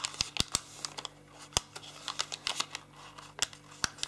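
Paper being folded for an origami rose makes sharp, close clicks and crisp crinkles in an irregular rhythm, quiet overall, with no talking.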